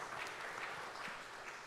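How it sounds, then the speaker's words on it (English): Applause from a summit audience at Saint Andrew's School in Boca Raton, a steady faint wash of many hands clapping at some distance, unbroken for its short length. "Please give them a resounding round of applause."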